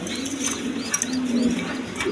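Pigeons, including a breeding pair with babies, coo in a low sustained warble nearby, mixed with faint higher chirps and light background noise.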